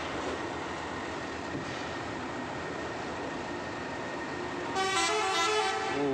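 A truck horn at Merak harbour sounds loud and close, in one sustained blast near the end, over a steady rumble of idling trucks and buses waiting in line.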